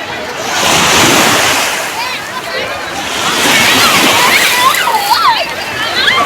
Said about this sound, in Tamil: ஆக்சுவலி இப்போ நாங்கள் வந்து ராமேஸ்வரம் கடலில் இருக்கிறோம்